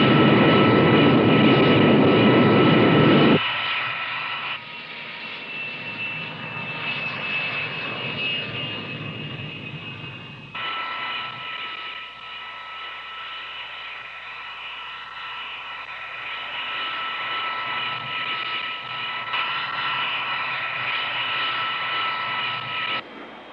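An X-15 rocket plane in flight, heard as a loud, steady engine roar with a whining tone that shifts abruptly as the scene changes, continuing as a droning hum.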